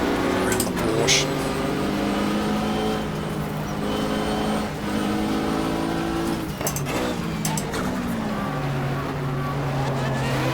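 Race cars roaring around a Porsche in the GTR2 racing game at the 1995 Daytona 24 Hour, steady layered engine drone with rising and falling pitches as cars pass close, a voice talking over it throughout.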